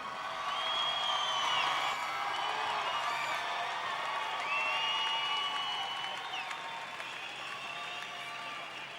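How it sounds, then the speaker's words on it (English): Steady audience applause at a wounded heroes' ceremony honoring a U.S. Army specialist, sustained clapping with scattered whoops and whistles, moderately distant and fading slightly toward the end. "Let's give him a round of applause."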